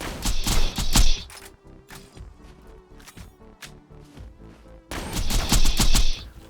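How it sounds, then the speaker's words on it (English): Gunfire and incoming rockets in Borderlands 2 erupt in loud rapid bursts at the start, give way to quieter scattered shots and movement, then return in a second heavy volley. "We have rockets coming in"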